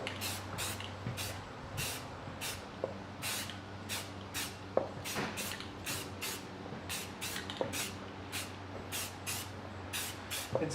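Aerosol can spraying primer onto a part of a Power Wheels ride-on Jeep: a steady rhythm of short, hissy bursts, roughly one every half second to a second, fairly faint, with a low background hum.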